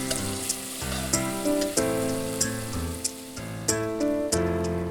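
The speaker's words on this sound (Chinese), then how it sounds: "不断翻炒。" Wood ear mushrooms and pickled vegetables with pickled chilies being stir-fried in a wok, a steady close sizzle with regular scraping stirs and clatter repeating about every half second, over soft background music.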